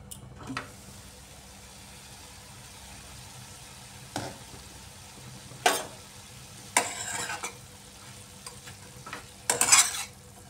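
Cauliflower stalk chorchori is stirred in a pan in a few sparse, brief scraping bursts, the last ones a little louder, separated by quiet stretches with a low, faint sizzle underneath.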